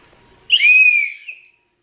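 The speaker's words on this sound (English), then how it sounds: "I found this whistle in my bathroom." A 3D-printed whistle blown once, a clear shrill tone lasting about a second that slides slightly and fades, close and loud against near silence.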